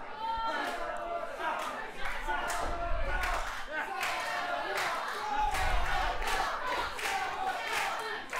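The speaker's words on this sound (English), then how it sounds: "Crowd trying to get behind Sabotage" A wrestling crowd cheers and shouts at a live independent show, a loose roar with rhythmic chanting bursts and occasional thuds, while a commentator talks over it.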